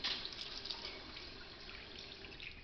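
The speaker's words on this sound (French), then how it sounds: "On rince ça." Tap water runs steadily as something is rinsed beneath it at a kitchen sink, a continuous close hiss and splatter that fades slightly over a few seconds.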